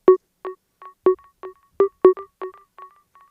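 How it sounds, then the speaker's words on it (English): A metronome click, resampled into a sampler instrument an octave higher with delay, plays short bright tonal blips in a steady pulse, with echoes trailing after each note and fading out toward the end. "I used a lot of simplers in this to create instruments from the metronome sound."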